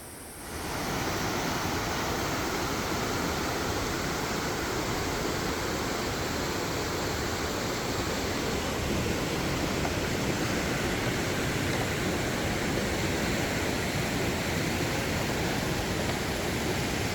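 Steady, dense roar of rushing water from the Coban Pelangi waterfall in the jungle near Malang, Indonesia, loud and close, holding constant broadband noise throughout with no voices.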